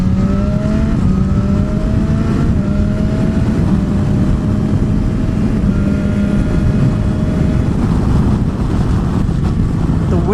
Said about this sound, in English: the buffeting is real. The buffeting amount of this thing is just ridiculous.